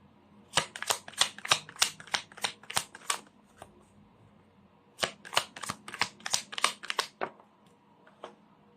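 Rapid riffling tarot card shuffles in two bursts of crisp snapping clicks, separated by a short pause, close and clear with no talking.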